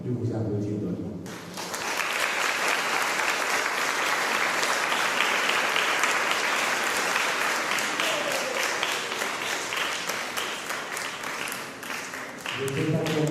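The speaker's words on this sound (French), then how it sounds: "Je vous demande de vous applaudir dans le monde." Sustained audience applause fills a first communion ceremony, beginning after a brief moment of speech and continuing as a steady, dense wash of clapping for about eleven seconds before a voice returns at the end.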